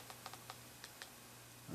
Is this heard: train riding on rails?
no